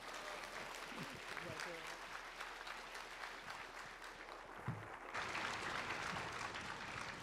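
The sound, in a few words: applause welcoming the pastor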